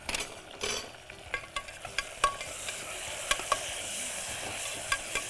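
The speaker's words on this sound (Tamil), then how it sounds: "இதை நம்ம வதக்கலாம்." Tomatoes and coriander sautéing in a pan on a cooking show, a soft steady sizzle with scattered clinks and scrapes of a stirring spoon against the pan, close and fairly quiet, with no talking.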